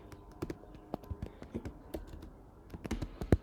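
An SQL query for a PostgreSQL database typed on a computer keyboard, scattered clicky keystrokes close by, uneven in rhythm with a louder key strike near the end.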